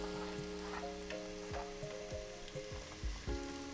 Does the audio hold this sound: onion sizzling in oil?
yes